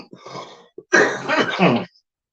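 A person clears their throat with a short rasp, then lets out a longer, harsh cough up close, followed by silence.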